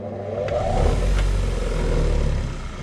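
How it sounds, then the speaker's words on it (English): A bench grinder with its grinding wheel spinning, used for sharpening high-speed steel lathe tools, gives a steady, loud motor hum with a low drone that holds throughout, with no talking. "And here's the grinding wheel."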